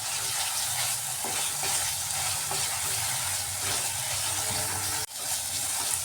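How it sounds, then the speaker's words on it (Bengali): Thick egg tikka masala gravy being stir-fried over a medium gas flame, sizzling steadily throughout with a constant hiss and a brief dip near the end, no voices. "গ্রেভিটাকে এইভাবেই কষাতে হবে একটু সময় নিয়ে গ্যাসের আঁচটা মিডিয়াম করে এইভাবে কষিয়ে নিতে হয়"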